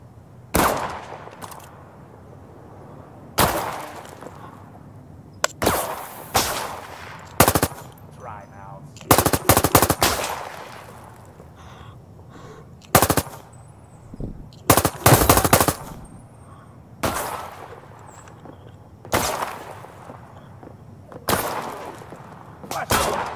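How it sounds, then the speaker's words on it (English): Repeated machine gun bursts from the VR shooter Zero Caliber VR, loud, sharp volleys recurring every couple of seconds with short gaps of ambient game noise between them, with faint talk at times. "Who the hell is shooting at me?"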